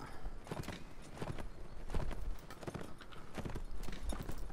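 Horse hooves clip-clopping in the Mount&Blade video game, a quick irregular run of soft thuds at moderate distance, fairly quiet and continuous, with no talk over them.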